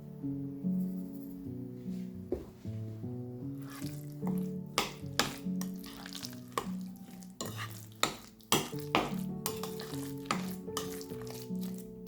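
Meat mixture being stirred and mixed with a tablespoon of flour and a tablespoon of breadcrumbs, giving steady close wet scraping and sticky squelching with sharper spoon-on-bowl knocks through the middle and second half.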